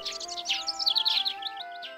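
Baby robins in a nest chirp during feeding in an animated cartoon scene, a quick cluster of bright, close, high tweets that bunch together and then trail off within about two seconds.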